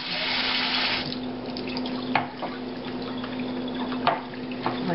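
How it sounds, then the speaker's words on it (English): Tap water runs steadily over Koolaid-dyed wool roving being rinsed in a sink, a close continuous splashing stream with a few sharper drips and splats. "I'm still going to rinse this a little bit."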